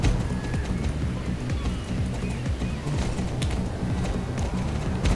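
Horse hooves clip-clopping at a steady trot in the online horse-riding game Star Stable Online, a continuous rhythmic patter of footfalls over low game music, with no talking.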